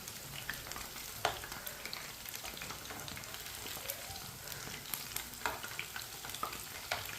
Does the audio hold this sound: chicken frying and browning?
yes